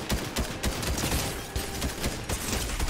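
Rapid video game gunfire crackles in dense, overlapping bursts throughout, loud and close, with no voices over it.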